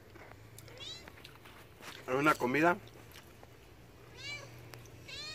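A cat meows in a rural countryside setting: two clear, close meows in quick succession with a few fainter mews around them, while a person talks over the quiet background.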